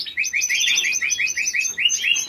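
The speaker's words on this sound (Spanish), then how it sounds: "Mira, este es el pájaro." A pet bird with a brown 2022 leg ring chirps and tweets in rapid, bright, repeated notes, loud and close, continuing steadily without any voices.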